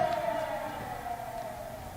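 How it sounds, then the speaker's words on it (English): A siren wails steadily with a slowly gliding tone, somewhat distant and muffled, filling the whole short stretch without pause. "Sirens wailed in the streets."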